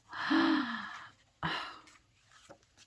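A woman gasps with joy over old yellow tape, first with a long, loud voiced intake and then with a shorter, softer second gasp, both close and with no words.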